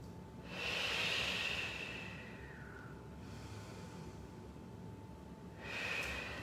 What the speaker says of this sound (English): Take a couple more breaths.